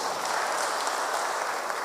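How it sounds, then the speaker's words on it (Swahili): A crowd claps in a steady, even wash of applause for a school during a graduation service. The clapping holds at a constant moderate level throughout. "Tupigie hiyo shule makofi"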